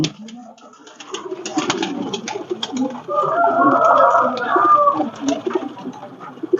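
Pakistani pigeons cooing close by in a loft, soft rolling coos swelling in the middle, with scattered wing and foot rustles throughout.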